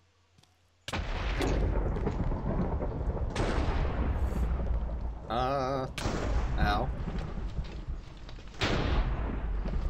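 Loud crackling thunderclaps from elemental lightning strikes in modded Minecraft, several broad bursts in quick succession, with a player's brief exclamation of pain between them.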